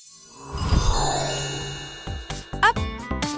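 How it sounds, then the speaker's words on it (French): A bell rings out in a short burst of bright chiming tones, loud and close, with a few clanging strikes near the end amid a busy children's show soundtrack. "Un seul mot et aussitôt, la cloche sonne."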